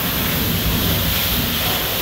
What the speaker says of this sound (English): You just see that, that wave of water that's just falling dead center in the center of the room?